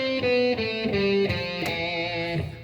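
A stringed instrument plays a Phrygian mode scale shape, sounding a smooth run of sustained notes up close, bright and steady, with nobody talking.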